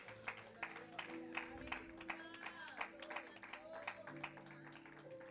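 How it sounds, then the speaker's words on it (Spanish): Church congregation clapping hands in a steady rhythmic beat, faint and distant, over sustained music tones. "Dele palmas al Señor."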